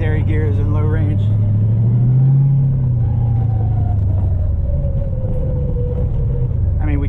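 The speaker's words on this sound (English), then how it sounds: "You can really hear those planetary gears in low range." A new V8 Toyota Tacoma crawling in low range: a steady, loud engine rumble carries a rising and falling drivetrain whine from the planetary gears, with muffled voices briefly in the background.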